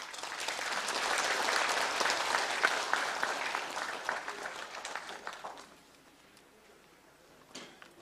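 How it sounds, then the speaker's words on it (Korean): At a National Assembly debate forum, the audience claps for the keynote speaker, a full round of applause that holds steady for several seconds before fading out, leaving a quiet room with one last faint clap. "뜨거운 박수로 부탁드리겠습니다"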